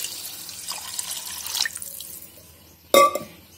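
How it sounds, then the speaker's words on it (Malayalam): Water runs from a tap into a pot for making pongal, a continuous splashing stream that thins out, then a sharp clink and splash near the end. "ഒരു 6 കപ്പ് വെള്ളമാണ് ഞാൻ ചേർത്തിരിക്കുന്നത്"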